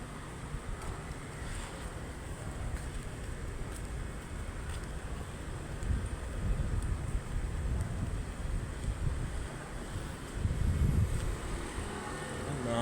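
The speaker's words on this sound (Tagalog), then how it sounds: "yung hangin dito" Steady wind buffeting the microphone outdoors, a continuous rushing noise with low gusts swelling now and then.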